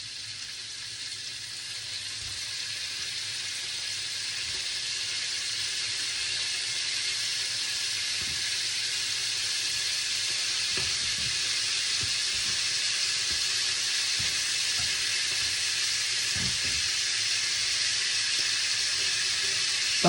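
Asparagus frying in hot margarine in a pan, a steady broadband sizzle that holds throughout with scattered crackles and pops, close and even.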